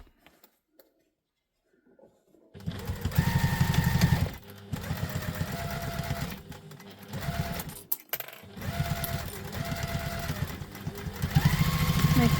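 A sewing machine stitches a tote bag in steady mechanical bursts after a quiet start, running for a few seconds, pausing briefly, then resuming in several close, fairly loud runs.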